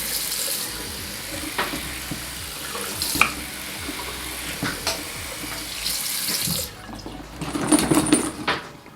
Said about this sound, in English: So let's turn on the water and test it out.